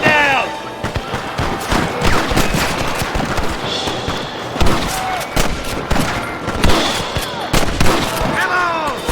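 Rapid Western gunfire in Red Dead Redemption: loud, close revolver and rifle shots cracking in quick irregular volleys, with whizzing ricochets and shouting voices mixed among the shots.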